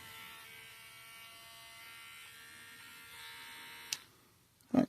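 A Wahl Tempo hair clipper's motor runs on a workbench with a steady, even buzzing hum for several seconds, followed by a couple of sharp clicks as it is switched off and unplugged.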